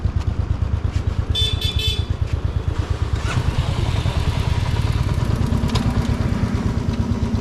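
A touring motorcycle on a long North East road trip idles steadily and close by, its engine thumping in an even, rapid rhythm for the whole stretch, with faint clatter above it.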